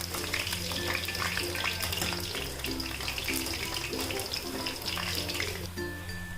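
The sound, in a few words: potatoes deep frying in oil for Potato 65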